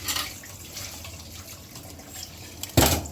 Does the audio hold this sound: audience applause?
no